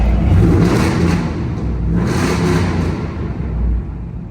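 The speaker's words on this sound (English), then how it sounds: "Got to end with the revs, of course." A crew cab pickup truck engine roars loudly in two long surges at a truck show, a rough, close rumbling rev that swells and fades, with no talking.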